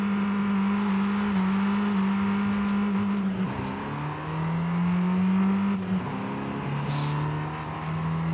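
Engine of a Lynk & Co 02 hatchback with an 8-speed automatic gearbox in a driving game, droning steadily as it accelerates, with its pitch dropping at two gear shifts after brief pauses, then climbing again.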